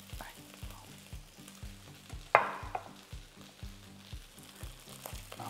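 Lizardfish frying skin-side in a pan gives a steady sizzle with rhythmic scraping and stirring sounds and one sharp clack partway through, close and alone without speech.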